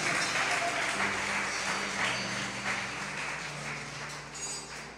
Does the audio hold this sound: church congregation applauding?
yes